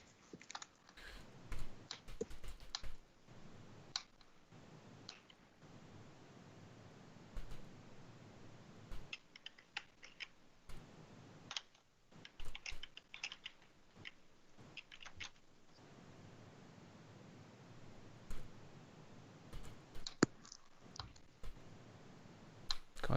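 Rapid clicking keystrokes on a computer keyboard come in irregular bursts with short pauses, close and fairly quiet, with no voices over them.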